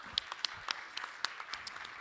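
Faint, scattered clapping from a small audience at a startup founders' pitch event, with a few spaced hand claps heard from a distance and no cheering.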